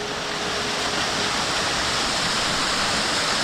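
Boogarem Falls on Mullumbimby Creek in Mount Jerusalem National Park, New South Wales, roars as a loud, dense, unbroken wash of falling water close by, with a good flow and no voices.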